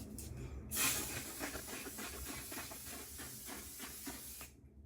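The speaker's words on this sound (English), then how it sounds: "This is a fixing spray" A continuous fine hissing spray of alcohol-based makeup fixing spray runs for several seconds, starting with a brief burst, then steady misting that cuts off abruptly.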